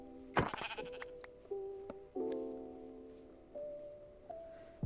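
Several sheep bleats in Minecraft VR, a sharp first cry followed by a string of drawn-out, wavering bleats one after another, fairly faint against a quiet background.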